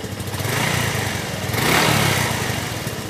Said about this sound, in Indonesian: Kita gas lagi.